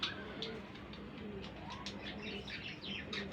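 Pigeons at a wholesale pigeon farm, soft cooing and chirps scattered through steady coop background noise, with light fluttering, close and moderately quiet.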